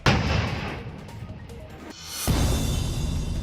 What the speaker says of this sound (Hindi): जम्मू कश्मीर के पुंछ में पिछले दिनों में मिले 4 आईईडी को सुरक्षा बल ने नष्ट कर दिया